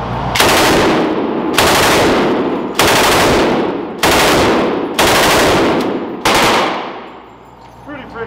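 A bipod-mounted light machine gun fires six loud continuous bursts, each about a second long with brief gaps between, ending in ringing echo and faint metallic clatter.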